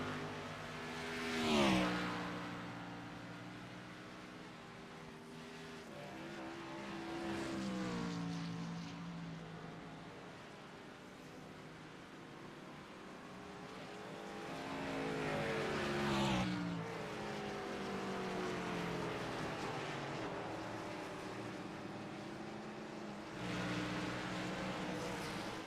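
Xfinity Series race cars at Watkins Glen roar past one after another, engine pitch rising and falling in repeated swells as they sweep by, heard at a moderate distance with no talking.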